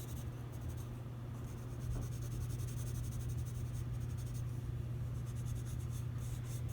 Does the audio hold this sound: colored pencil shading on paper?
yes